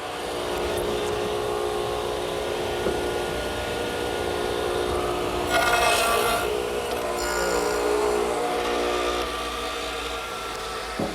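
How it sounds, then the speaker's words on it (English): A radial arm saw cuts a tenon in wood, with a steady mid-level whine and a louder bite of blade through stock around the middle. The saw runs throughout with no talking. "Now, I've just made an adjustment to the radial arm, raising the blade so that I can complete the cut at the bottom of the tenon."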